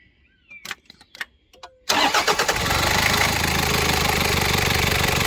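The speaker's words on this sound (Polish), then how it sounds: "Patrzcie, jak on mięciutko startuje." A warm Toyota Land Cruiser engine with about 110,000 km on it, preceded by a few clicks and knocks, then cranks and fires up promptly and settles into a steady, smooth idle.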